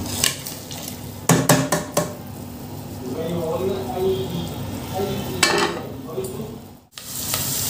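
Onions fry in a pot for a stewed zucchini and meat dish: a steady close sizzle under sharp spoon scrapes and clanks of stirring against the pot, with some talking in the kitchen.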